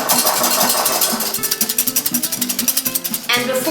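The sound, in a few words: whisking cocoa powder into egg whites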